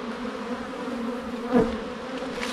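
Honeybees buzz steadily around a crowded hive box, a dense continuous drone from many insects, with one bee passing close and swelling briefly louder partway through.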